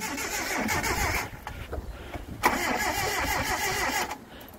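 A Datsun 720 ute's engine cranking and catching, a rough grinding churn that drops briefly, then bursts into a loud running roar and settles toward a steady idle, close by.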